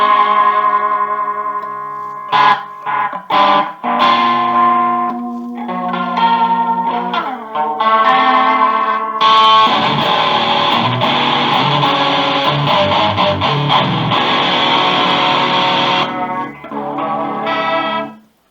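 Electric guitar routed through an FX loop switcher with overdrive and chorus loops engaged, playing sustained chords and picked notes alone, loud and close, with the tone thickening into a dense driven wash midway before a brief pause and final strum.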